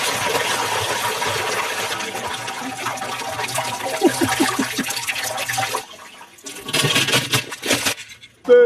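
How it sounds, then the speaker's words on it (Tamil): Water running and splashing steadily in a village kitchen setting, a continuous close rush with some gurgling, briefly dropping away before a second surge and an abrupt loud ending. "இவ்வளவு தண்ணி வருது."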